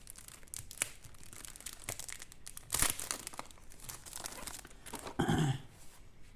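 Plastic parcel packaging crinkles and tears in scattered bursts during an unboxing, with a louder rustling rip near the middle and another toward the end.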